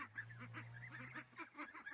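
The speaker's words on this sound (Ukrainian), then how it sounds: "Трошки випущу качок, попробую, хай може підуть, походять" Domestic ducks being let out give a rapid run of nasal quacks and honks, a close, faint chattering series of calls with no talk over them.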